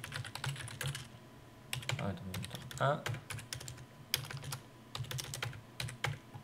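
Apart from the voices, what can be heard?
pressing the Tab key on a computer keyboard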